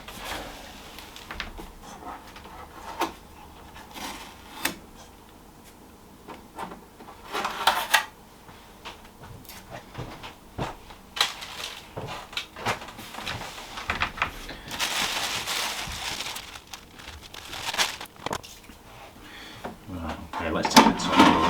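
Tape is peeled off and the drawers of a COSORI Turbo Tower Pro stacked air fryer are opened, with rustling, plastic clunks and sliding knocks in irregular bursts while a person talks throughout.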